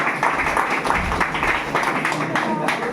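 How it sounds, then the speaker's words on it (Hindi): Students in a classroom clap together in a dense, continuous patter of applause that carries through the whole moment, with voices talking over it. "ताली मारो, ताली मारो।"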